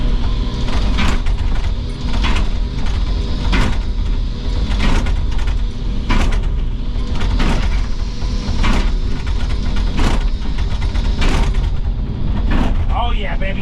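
A Wacker tamper pounds into the ground with loud, regular impacts about once per second over a constant engine rumble, close by, with a few people talking intermittently.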